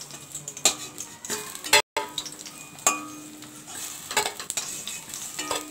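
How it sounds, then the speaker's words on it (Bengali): Hilsa fish pieces frying in hot oil in a kitchen pan and being lifted out, giving a steady close sizzle broken by sharp scrapes and clinks of a utensil against the pan. "দেখো মাছ ভাজাগুলো হয়ে গেছে,"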